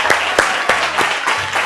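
Studio audience applause on a Spanish television variety show, a steady wash of clapping lasting under two seconds with no speech over it.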